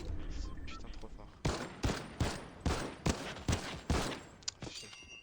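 Gunfire from an infantry weapon in the Unreal video game, a quick run of about eight loud, sharp shots fired at a steady clip over game ambience and footsteps.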